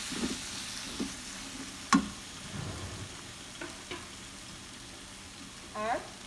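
Ground masala being stirred into sautéed capsicum in a pan for kadai mushroom, with a few soft scraping strokes, light sizzling and occasional spoon knocks at moderate distance.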